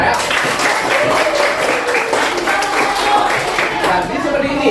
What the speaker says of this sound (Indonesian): Tepuk tangan dulu kita ya.